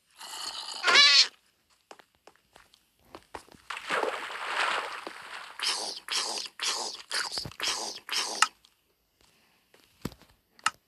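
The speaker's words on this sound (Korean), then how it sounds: "자, 고양이네." A Minecraft cat gives a short meow early on, followed by soft purring and a run of brief, quiet sounds.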